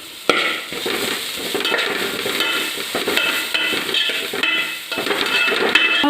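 A spatula stirs vegetable fried rice seasoned with pepper powder in a pan, making repeated close scraping and clinking sounds over a light sizzle.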